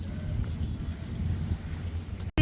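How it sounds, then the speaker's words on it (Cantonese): Police launch number 11 docks at the pier in Yung Shue Wan on Lamma Island, Hong Kong, its engine giving a deep, steady rumble close by amid wind noise, ending with a sudden cut. "11號警輪啊，而家泊入去碼頭啊！"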